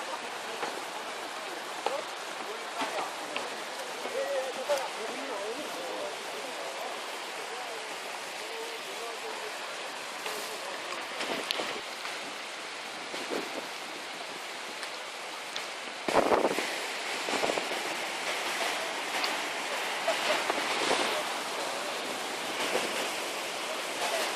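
Continuous rushing water on Mount Paektu (Baekdu), a broad steady hiss like a stream or falls, with occasional faint voices in the background.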